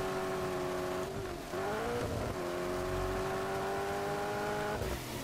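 A car drifting in Just Cause 3, its engine holding a steady high revving tone that dips and climbs as the slide continues, loud and close with a faint tire hiss and no voices.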